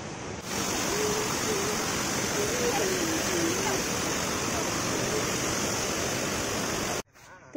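Bharachukki waterfall roaring with a loud, continuous broadband rush of falling water, heard up close and steady before ending abruptly.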